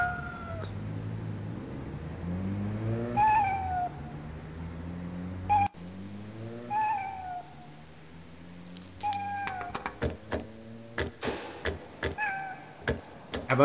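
Cat meowing repeatedly in the PC game L'affaire Morlov, a series of drawn-out, rising meows with electronic game sounds and sharp clicks later, no talking.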